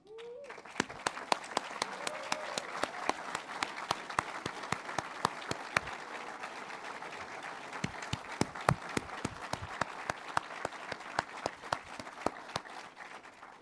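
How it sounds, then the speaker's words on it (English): Audience at an Air Force Warrant Officer Training School graduation claps for standing family members of service members, a steady, fairly distant round of applause with distinct sharp claps, lasting without talk. "We'd like to give you a round of applause"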